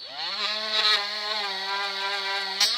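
A Parkside (Lidl) cordless multi-grinder polishing silver gives a steady, close, high-pitched motor whine with a strong tonal hum, holding nearly constant pitch with slight load shifts.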